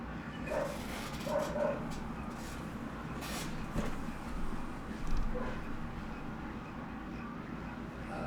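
A pet dog barks outside at passers-by on the road, a few short distant barks and yips scattered over steady background hum.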